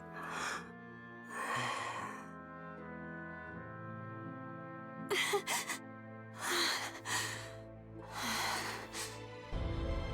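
Heavy breaths and sharp gasps from a character in the Soul Calibur VI fighting game come in several separate bursts, close and clear, over a sustained musical drone.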